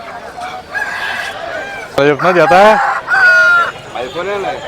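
At a village market, chickens and chicks cluck and crow loudly and close by in repeated bursts, while people talk over the birds.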